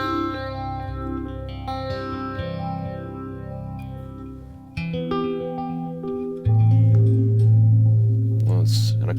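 An electric guitar runs through a Helix phaser pedal with a TonePrint setting, which lifts the lower mids. Sustained notes and chords sweep with a swirling, shifting tone, close and prominent, ending in a louder held chord.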